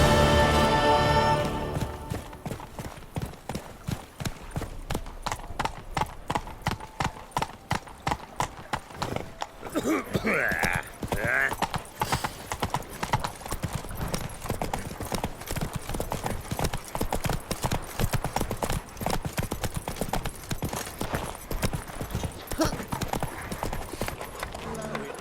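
Roach, the horse from The Witcher 3, gallops with rapid, rhythmic hoofbeats, loud and close, sustained across the whole stretch after a brief opening swell. A short whinny-like burst comes partway through, with no talking.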